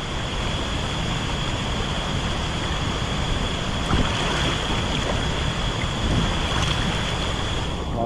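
Forceful water surges through Zol Chond waterfall near Harishchandragad in a dense, unbroken roar, close and loud, with some wind buffeting the microphone and no talking.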